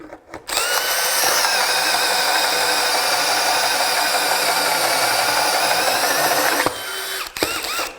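A DEWALT 20V hammer drill (DCD1007) runs on its level 1 setting, giving a loud, steady high-pitched whine that starts after a short pause, holds evenly for about six seconds, then cuts off with a few clicks.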